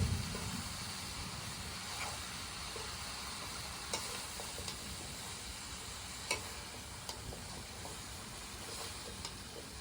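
Pork sizzling and being stirred in a pan over a firewood fire outdoors, a steady loud hiss with occasional clinks and scrapes of the spoon throughout.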